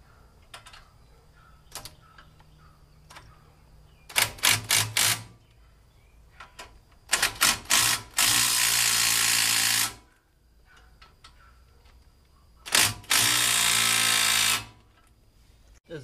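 Power tool tightening brake caliper bolts on a Toyota Tundra, several short stuttering impact bursts followed by longer steady whirring runs, close and loud with quiet gaps between.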